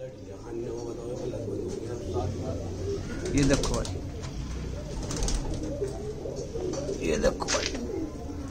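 Pigeons coo in low, soft rumbling calls amid wing flutters, while someone talks over them throughout.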